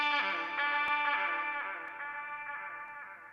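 A sampled saxophone stab drenched in delay and reverb, one bright horn hit whose echoes repeat rhythmically and fade away over a few seconds.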